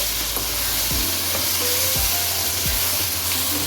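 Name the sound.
frying potatoes with spices in a pan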